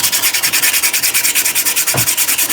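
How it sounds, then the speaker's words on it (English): A wooden turned vase or toadstool on the lathe is sanded with a sanding disc, giving a loud, close, continuous rhythmic rasping with fast regular pulses and no talk. "start off with the 240 and then straight to the, then just straight up to a 400."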